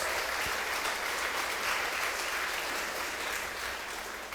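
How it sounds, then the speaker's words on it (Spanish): Church congregation applauding during a sermon, a dense, even wash of clapping from many people filling the room, sustained for several seconds. "Dale un aplauso al Señor."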